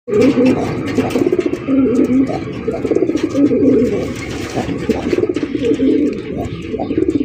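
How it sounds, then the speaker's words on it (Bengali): Domestic pigeons, a male and a female, cooing back and forth: repeated low, throaty coos pulse close by in a steady rhythm over faint background noise. "পাগলে ডাকতেছে আর পাগলি মাদি তাল মিলাইতেছে"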